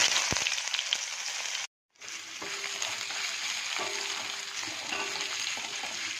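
Chopped onion with radhuni and black cumin seeds sizzles loudly and steadily in hot oil for tangra fish chorchori, broken by one brief silent gap, with faint stirring scrapes and no voices.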